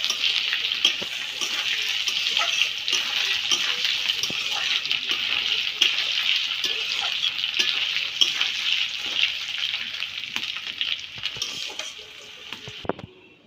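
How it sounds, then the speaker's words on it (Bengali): Potatoes seasoned with turmeric and salt fry in hot oil for a rohu fish curry, giving a loud, steady sizzle that runs unbroken and tapers off near the end. "মাছের ঝোল করার জন্য মাছের ঝোলের আলুটা আগে ভেজে নিচ্ছি।"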